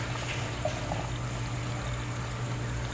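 Running water steadily rinses a bleached lace wig, a continuous close pouring and splashing wash under a faint low hum, with no talk.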